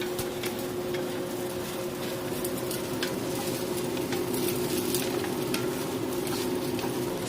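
Garlic sizzles steadily in a hot pan for salsa while it is stirred without pause, the frying crackle close and constant with light scraping throughout.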